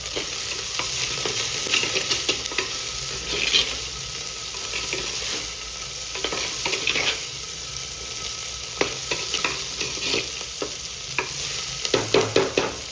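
Onions sautéing in a pan for a fish curry, stirred with frequent sharp scraping strokes over a constant close sizzle, with no talking.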